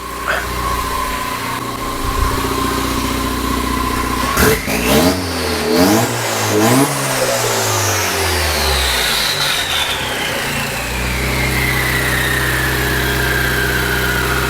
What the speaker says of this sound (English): Can you just rev it and check the return to idle now?